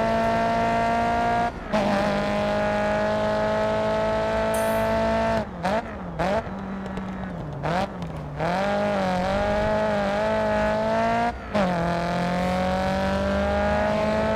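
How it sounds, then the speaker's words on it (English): Race car engines in the Grid Autosport video game scream at high revs, with a sustained tonal whine that drops sharply at several gear shifts and braking points and then climbs again, loud and continuous, with no voices. "the cars sound amazing in this game"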